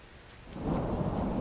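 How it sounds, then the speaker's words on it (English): A heavy rain downpour swells to a dense, steady broadband hiss in a building game set during a storm, with low rumbling beneath it and no talk. "This is quite heavy rain now."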